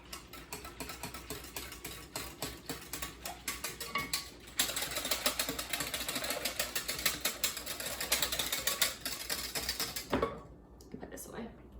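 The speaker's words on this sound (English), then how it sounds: "I find that whisking it really gets the clumps out better" A whisk beating yogurt starter into milk to break up clumps, close by: a fast, steady stream of metallic clicking and scraping against the bowl that grows busier midway, then stops abruptly near the end.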